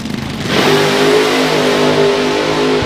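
A fuel altered drag racing car at a drag strip revs hard, its engine jumping from a lower rumble to a loud, sustained high roar that holds close and steady to the end.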